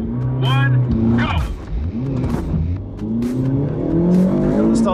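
A budget hot hatch pulls away from a standing start, its engine note rising and falling through gear changes, with a brief tire squeal, close and loud, while people talk over it.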